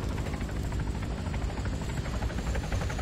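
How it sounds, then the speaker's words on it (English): An enemy helicopter flies near a landing zone in the military shooter Arma 3, its rotor and engine making a steady thrumming drone that holds at a constant moderate level throughout. "we have one enemy heli in the air now"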